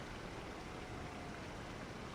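Steady rushing waterfall from the video game Genshin Impact, a dense, even wash of falling water that continues unchanged and fairly loud, with no speech.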